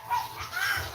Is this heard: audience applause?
no